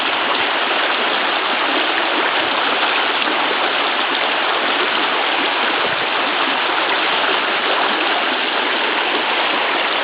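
Floodwater pours down a road like a creek after heavy April flooding, a loud, continuous rushing roar of fast water that holds steady throughout with no voices.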